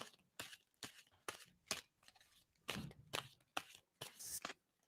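Playing or tarot cards being shuffled by hand, a faint series of quick riffling bursts and soft slaps in an uneven rhythm, close and quiet with no talking.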